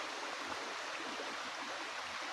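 Mountain stream running through a forested area, a soft, steady rush of flowing water, faint and continuous with no voices.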